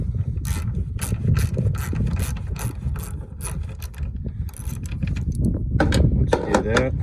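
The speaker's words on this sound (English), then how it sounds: "So what I'm using is a 5/16 socket" A ratchet with a 5/16 socket backs out coarse-thread brake light screws on a 2009-2013 Ford F150, giving rapid repeated clicking bursts up close, with a brief pause midway and a faster run of clicks at the end.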